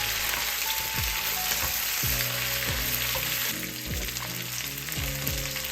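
Chopped fresh jackfruit pieces frying in a hot skillet, a steady bright sizzle with repeated scraping strokes of a spatula roughly every second, close and loud, no voices.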